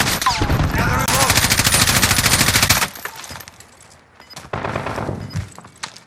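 Rapid automatic gunfire in a first-person shooter match, a loud, dense burst of continuous shots followed by a quieter lull and then more sustained firing.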